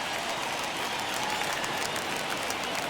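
Home crowd in MLB The Show 21, a simulated Orioles versus Yankees game, cheering in a steady, dense roar of applause and noise that holds at an even level throughout with no talk over it.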